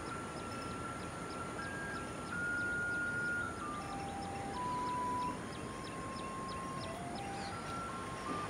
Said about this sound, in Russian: Вот так на Шри-Ланке развозят хлебушек с утра. Такая машинка с музыкой.